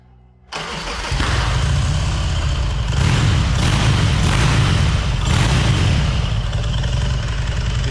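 A custom motorcycle engine cranks and catches after a quiet moment, then settles into a loud, steady, deep idle rumble close by.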